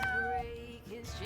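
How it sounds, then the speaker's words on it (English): Cat meowing in the video game Mewgenics, a single short, sharp meow with a bending pitch followed by quieter game sounds, no talk. "That's the sassiest meow I've heard in a while."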